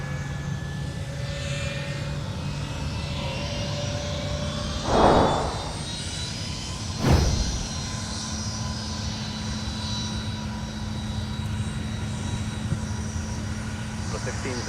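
A fixed-wing aircraft at Minneapolis–St. Paul airport roars through a steady distant engine drone, with a brief louder swell midway; an air traffic control radio voice speaks over it intermittently.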